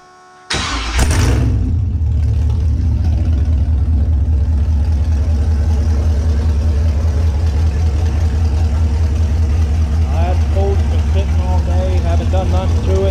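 A Grand Marquis fitted with an LS 4.8 V8 cranks on a cold start after sitting unused, catches abruptly, and settles into a loud, steady, deep idle, with faint higher chirps late on.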